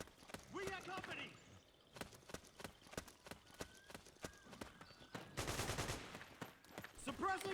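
Game gunfire in Metal Gear Solid 4: Guns of the Patriots, sharp repeated shots in irregular bursts with a dense automatic volley near the end, mixed with in-game voices talking over the action.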